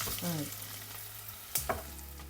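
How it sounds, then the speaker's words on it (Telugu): Onions and green chillies sizzle in hot oil with a steady hiss, and a couple of brief clatters from stirring come near the end. "ఆయిల్ వేడెక్కినట్టుంది ఉల్లిపాయలు రెండు పచ్చిమిరపకాయలు కోసి వేసేయాలి"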